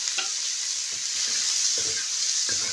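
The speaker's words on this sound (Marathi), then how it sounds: "तेल टाकलं ना कांद्यामध्ये लवकर कांदा परतून जातो आपला." Onions frying in oil on a hot iron griddle over a strong flame, a close, steady sizzle with soft scraping stir strokes at intervals.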